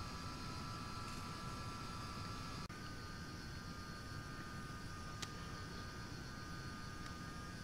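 Steady, continuous jet engine roar of a JF Comet airliner flying in an X-Plane flight simulator near Sydney, a broad even drone with a faint whine holding throughout, no talk.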